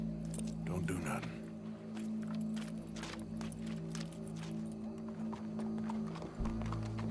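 Horse hooves clip-clop in Red Dead Redemption 2, a run of irregular hoof knocks over a sustained tonal game backdrop, with voices talking faintly underneath.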